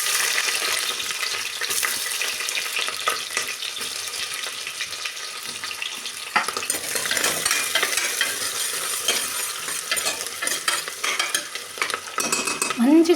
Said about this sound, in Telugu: ఉల్లిగడ్డలు మంచిగా ఫ్రై అయినాయి కదా